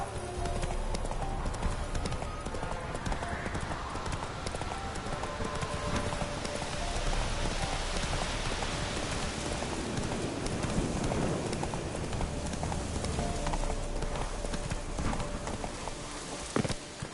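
Horse hooves clip-clop at a steady gallop in Witcher 3, with a continuous rhythm close up and rain-like ambient texture underneath.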